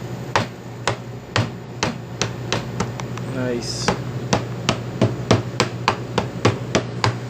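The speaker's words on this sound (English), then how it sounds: "give it a little hit with the hammer" A hammer delivers a steady series of sharp, close taps, seating a hinge pad on a refrigeration door hinge during HVAC/R repair work. About a dozen evenly spaced hits are heard, with a brief speaking voice partway through.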